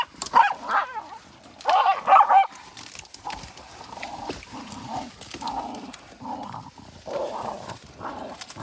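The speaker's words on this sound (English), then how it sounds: "Not quite a yippy dog." Small dogs bark and yip outdoors in a few sharp bursts near the start, followed by softer, scattered yelps and whines at moderate distance.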